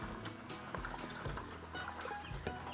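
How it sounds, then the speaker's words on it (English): Water poured into andouille and alligator gumbo on a Blackstone griddle, a steady low trickle and splash with faint sizzling, fairly quiet and close, no talk over it. "We're gonna add a little water in here, y'all."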